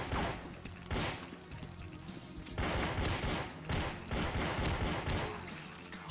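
Repeated bursts of shotgun fire in the side-scrolling action game Crazy Flasher 6, loud, dense blasts following one another with little pause across the whole stretch, no talk over them.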